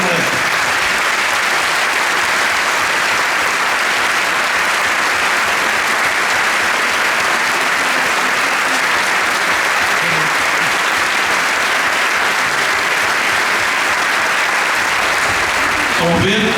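Loud, sustained applause from an audience cheering a mixed team of local and capital-city people, dense clapping filling the whole stretch without pause.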